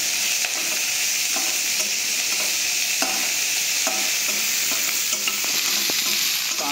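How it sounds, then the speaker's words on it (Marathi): Chopped onions frying in a spoonful of oil in a pan as they brown, a steady close sizzle broken by regular scrapes and clacks of a spoon stirring, with no voices. "सर्वप्रथम आपण आता यामध्ये कांदा व्यवस्थित ब्राऊन होईपर्यंत तळून घेणार आहोत।"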